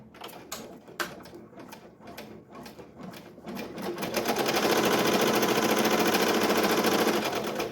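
Embroidery machine stitching an applique onto a sleeve: separate mechanical clicks at first, then a loud, fast, steady whirring rattle of stitching nearby.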